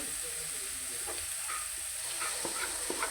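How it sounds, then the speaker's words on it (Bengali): Onion fries with garam masala and is stirred, giving a soft, steady sizzle and hiss. Light scraping touches come now and then, at low volume and without speech. "ভালোভাবে পেঁয়াজটা মশলা একদম কষিয়ে নিব"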